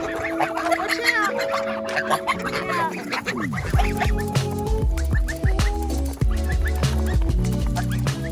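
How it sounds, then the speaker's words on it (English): A farmyard with many ducks and ducklings gives repeated quacks and peeps at close range, over a busy mix of other bird and animal calls, with a brief lower sweeping cry in the middle. "We've got lots of ducks now, ducklings and actual ducks"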